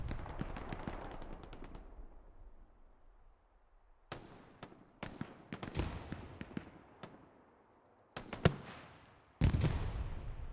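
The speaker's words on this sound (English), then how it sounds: "More rockets coming in." Rockets exploding in Hell Let Loose during a competitive 18v18 match, a burst of sharp blasts followed by a quieter lull, then several separate loud cracking explosions arriving in irregular clusters, some close and some further off.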